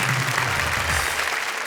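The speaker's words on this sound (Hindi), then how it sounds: "तालियां।" Audience applause at a Hindi poetry comedy show, a dense wash of clapping that holds steady and fairly loud, with a faint voice murmuring low beneath it.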